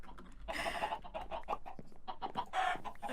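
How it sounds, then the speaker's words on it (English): Chickens in a video game cluck in short, repeated bursts, a busy run of close, choppy bird calls with brief louder squawks scattered through. "Come here, little chickens."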